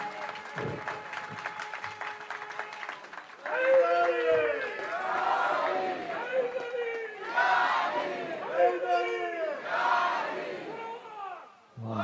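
A crowd at an Imam Hussein TV International Gala Dinner in Toronto cheers and claps loudly in rising, chanting waves after a stretch of quieter room noise.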